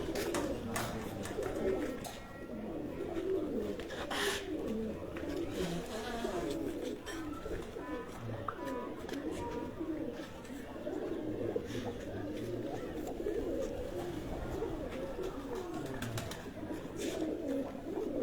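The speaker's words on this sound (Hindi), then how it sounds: "ये मैं आपको ब्रीडर कबूतर उनके दिखा रहा हूं।" Breeder pigeons coo steadily throughout amid a busy, crowded flock ambience, with occasional voices and wing flutters mixed in.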